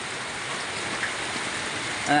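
A steady, dense roar of heavy rain fills the whole stretch evenly, with no voices and only a faint knock near the end.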